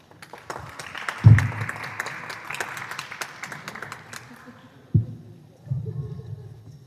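Applause from a youth mental health conference audience honoring the event photographers, a spread of scattered claps building then tapering over several seconds, with a couple of louder thumps and low murmuring beneath.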